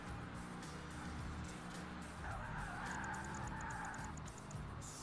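Race cars in Project Gotham Racing, including a Subaru and a Mitsubishi, droning together in a dense, continuous engine roar with a faint higher tone drifting over it, and no talk.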